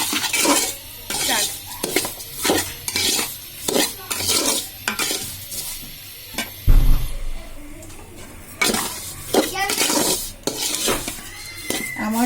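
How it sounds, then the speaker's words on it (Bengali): Vermicelli for sweet zarda semai fries in a metal pan while a spoon stirs it repeatedly, giving a steady series of loud scraping clinks against the pan over a soft sizzle, with one brief low thump partway through. "সেমাইটাকে বারবার নাড়াতে হবে যাতে পুড়ে না যায়"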